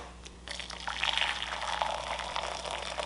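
Freshly boiled water from an electric kettle pours steadily into jars, a continuous splashing fill that starts after a brief pause and runs close and even to the end.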